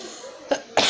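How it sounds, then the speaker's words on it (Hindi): Two sharp coughs come close together near the end, loud and abrupt, following a moment of quiet background hiss. "क्या खांसी आ रही है"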